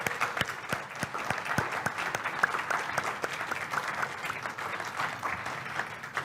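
A congregation applauds the members of a church leadership council and the treasurer. The steady, sustained clapping is crisp and fairly distant, with individual claps standing out over a dense wash of hands.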